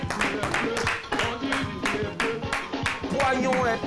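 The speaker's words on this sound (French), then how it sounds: "On va applaudir très fort notre invité" Television studio audience applauding a guest on a French talk show: dense, sustained hand clapping with sharp rhythmic bursts, loud and close, filling the whole stretch.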